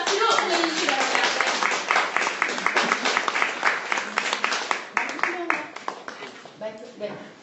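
An audience at a peace-themed concert and lecture claps steadily for a team as it is introduced. The applause is dense and close, with distinct hand-claps throughout and some voices mixed in.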